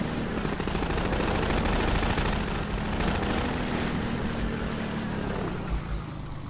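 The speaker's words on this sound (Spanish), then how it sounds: "vale, ráfaga de tiros" A burst of gunfire in the video game Half-Life 2 rattles continuously over a loud engine drone, dense and sustained for several seconds before easing slightly.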